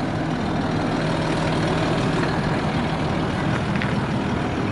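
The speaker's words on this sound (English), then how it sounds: "I've just started the engine." A Land Rover Discovery TDV6 HSE diesel idles steadily on a chilly day, a constant low rumble with broadband noise, close and unbroken, with no voices over it.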